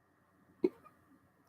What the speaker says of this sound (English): I've been quite good with hiccups recently, and I've had like a day or two where they just keep coming back.